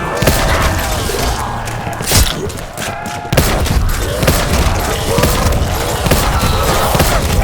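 Loud, continuous gunfire in Black Ops 4 Zombies with rapid heavy blasts and booming cannon shots, the barrage dipping briefly before resuming at full force.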